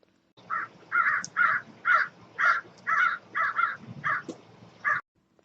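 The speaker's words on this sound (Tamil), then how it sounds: "காகம் எழுப்புற ஒலிய நாம கரையிறதுன்னு சொல்லுவோம்." A crow caws about eleven times in a steady, evenly spaced series of harsh calls, clear and close against a quiet background.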